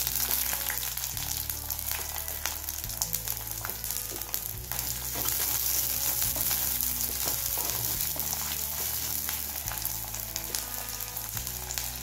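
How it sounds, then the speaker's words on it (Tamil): Onion sizzles steadily in hot oil with mustard seeds and dal for a Tamil cluster bean poriyal, a continuous close frying hiss with faint crackles and occasional stirring, no voices. "வெங்காயம் போட்டுக்கலாம்."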